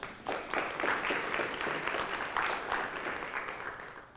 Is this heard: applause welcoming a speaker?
yes